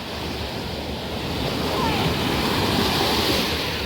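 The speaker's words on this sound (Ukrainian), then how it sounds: "Хвильки такі класні, сьогодні всі прям в них клюпаються." Sea waves breaking on a shallow public beach at Lanzheron in Odesa, a steady, dense wash of surf mixed with wind noise that swells slightly louder partway through, with no voices.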